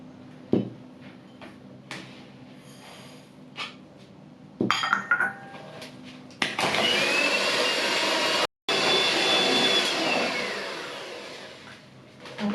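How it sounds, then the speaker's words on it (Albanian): An electric mixer whirs loudly and steadily as it beats eggs with sugar for an almond cake, with a short pause midway. Before it starts, bowl clinks and kitchen knocks can be heard. "Si fillim do fillojmë të rrahim vezët me sheqerin."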